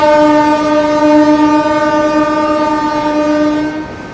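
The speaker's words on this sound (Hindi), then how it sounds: "अच्छा, ये है दानापुर सिकंदराबाद एक्सप्रेस।" A train horn blares loud and sustained for several seconds, its chord holding steady close by, over the rumble of the passing Danapur–Secunderabad Express.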